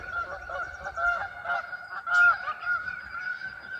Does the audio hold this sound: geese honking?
yes